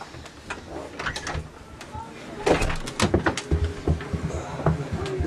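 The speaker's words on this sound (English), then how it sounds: "Shut the door" An indoor house door is pushed shut with a muffled thud amid shuffling movement, while people talk nearby.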